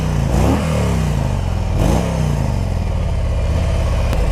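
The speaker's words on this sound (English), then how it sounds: "Let's give it a rev." A stock-exhaust 2017 Harley-Davidson Road King motorcycle revs up twice in quick succession at close range, the engine note rising and falling, then settles into a steady loud idle with no talking.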